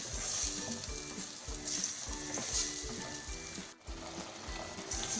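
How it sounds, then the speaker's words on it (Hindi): Onions fry with ginger garlic paste in a pan for a meat and okra curry. A soft, steady sizzle is broken by rhythmic scraping as the mixture is stirred, with no voices. "प्याज को हम 1 से 2 मिनट अच्छी तरह से फ्राई करेंगे।"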